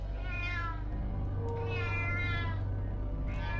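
A cat meows loudly and shrilly at a front door, two long drawn-out cries close by, then the start of a third, over a low steady hum.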